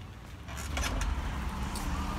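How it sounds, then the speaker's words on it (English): A ride-hailing Bolt car pulls up on a street in Jos, Plateau State, its low engine rumble swelling from about half a second and holding steady and fairly close, with brief hissy bursts over it. "So that is my Bolt car coming."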